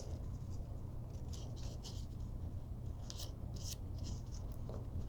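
Origami paper for a butterfly being folded and creased on a table, with soft scratchy rustles and short crisp strokes over a steady hiss.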